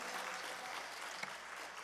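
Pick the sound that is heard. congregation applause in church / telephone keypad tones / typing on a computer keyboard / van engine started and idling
congregation applause in church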